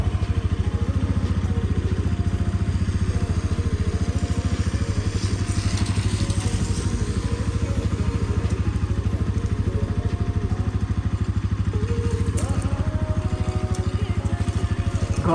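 A motorcycle rides slowly along a snow-covered road, its engine a steady, moderately loud throb with a rhythmic mechanical patter running throughout, with no talk.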